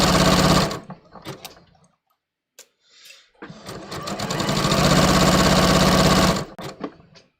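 A sewing machine stitches pleats into fabric, running loud and close in short bursts, then pausing before a long steady run of rapid stitching.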